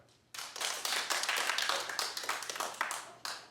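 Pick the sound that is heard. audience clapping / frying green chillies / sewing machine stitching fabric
audience clapping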